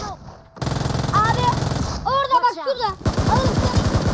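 Rapid bursts of automatic gunfire from the mobile battle-royale game PUBG Mobile, loud and close, arriving in quick clusters amid game sound effects, with a voice talking over parts of it.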